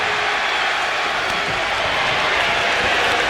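Steady crowd roar with scattered cheering and applause fills a wrestling arena in WWE 2K25 during an Orton versus Reigns slugfest, a continuous wash of noise at even loudness throughout.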